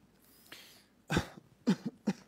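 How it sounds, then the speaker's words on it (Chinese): A person gives a deliberate, staged cough during a live-streamed game: one louder throaty burst, then two or three shorter coughs close to the microphone, with no speech. "战术性咳嗽。"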